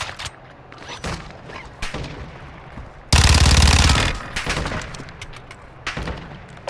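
Close, loud gunfire in Call of Duty DMZ: single shots and bursts punctuate the mix, peaking in a heavy sustained volley of rapid fire before tapering into scattered cracks.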